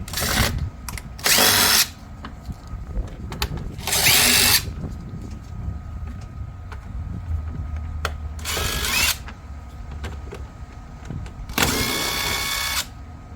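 Power drill or impact driver taking bolts off the front grill of a Honda Element, in four separate loud whirring bursts spread across the clip, with quieter handling sounds in between.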